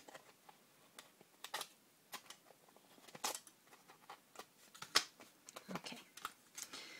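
Aluminum foil tape is trimmed by hand with a series of quiet, irregular snips and crinkles, close by and faint in a still room. There is no talking over them.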